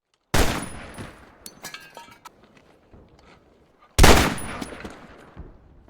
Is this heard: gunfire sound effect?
yes